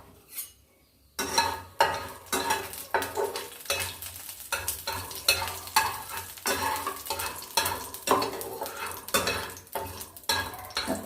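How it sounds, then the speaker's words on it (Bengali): Nigella seeds tempering in hot oil in a wok for a Bengali mango and katla fish dish: after a brief quiet start, a steady loud sizzle with repeated stirring scrapes and clinks runs throughout, no talking. "এবার আমি কালো জিরে ফোড়ন দিয়ে দিলাম।"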